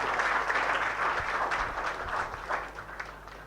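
Applause from an audience at a guru's spiritual gathering, a dense steady patter of many hands clapping throughout, moderately loud and continuous, without speech.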